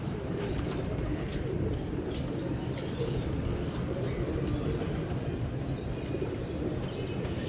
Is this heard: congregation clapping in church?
no